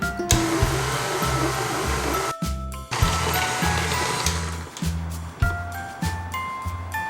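A stand mixer kneads soft tangzhong milk bread dough, its motor droning loudly and steadily with a rhythmic thumping from the dough hook, briefly cutting out once before running on.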